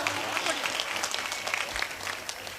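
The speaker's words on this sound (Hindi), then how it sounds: "ताली बजाओ यार।" Audience applause at a Hindi comic poetry gathering (kavi sammelan), a steady wash of clapping from a crowd throughout, fairly close and even in loudness.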